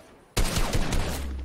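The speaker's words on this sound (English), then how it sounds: "and I'm getting shot at from behind." Sudden burst of rapid gunfire in a video game, a dense volley of shots starting abruptly and continuing loudly to the end.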